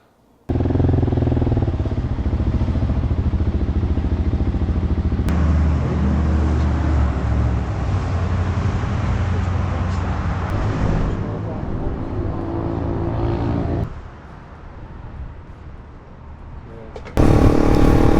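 A Husqvarna 701 single-cylinder thumper motorcycle cruises at highway speed, its steady engine drone and wind rush loud and continuous, easing slightly near the end before a brief surge.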